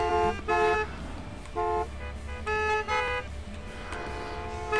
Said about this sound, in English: they're all honking at the fuel truck